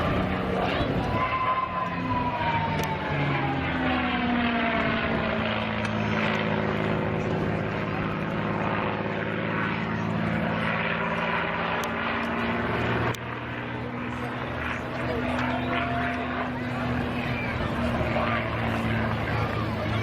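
Propeller aircraft flying aileron rolls at the Weston Air Festival in June 2017, a loud droning engine whose pitch rises and falls as it passes overhead and maneuvers.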